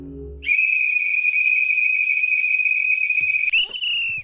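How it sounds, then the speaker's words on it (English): A loud, steady shrill whistle blast held for about three seconds, followed by a brief wavering tail, with a short low rumble just before it. "Blow the whistle."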